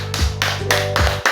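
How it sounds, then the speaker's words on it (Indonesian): A class of students claps their hands together at the end of a micro-teaching lesson, a few broad bursts of clapping with a steady low hum underneath. "boleh tepuk tangan untuk kita semuanya"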